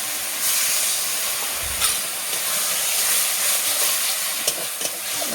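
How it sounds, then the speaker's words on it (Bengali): Water hits a hot pan of fried tomato masala and sets off a loud, steady sizzle and hiss that goes on throughout, with faint stirring clicks. "মশলা টমেটো খুব সুন্দর আমি কষে নিয়েছি। এখন আমি ওটা একটু জল দিয়ে দেবো।"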